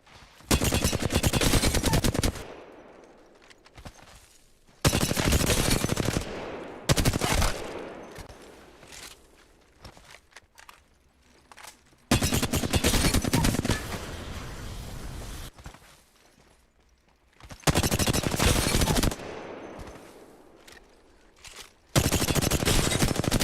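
Hip-fire gunfire in Apex Legends, including a Flatline rifle, comes in loud, rapid automatic bursts separated by short pauses, repeated several times at close range with no voices.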